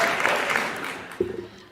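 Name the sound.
audience applause at a Hindi poetry recital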